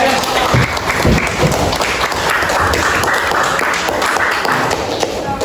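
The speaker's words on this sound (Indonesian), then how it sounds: "kasih tepuk untuk mereka dulu" A high school classroom breaks into applause for students, sustained dense clapping from many hands lasting several seconds, with some voices mixed in.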